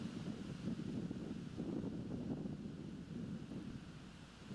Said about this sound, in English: it's pretty windy on this hole